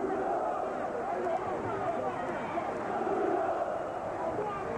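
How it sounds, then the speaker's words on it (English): A large boxing crowd at Wembley Stadium chants Bruno, a steady roar of massed voices with rhythmic rises and falls and continuous babble underneath. "Chants of Bruno, Bruno, from this very healthy-looking crowd"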